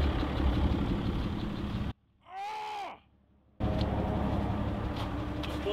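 Gas pickup truck idling with a newly fitted exhaust tip, a steady loud rumbling drone that cuts out briefly mid-way, leaving a short tonal whine, then resumes at full level.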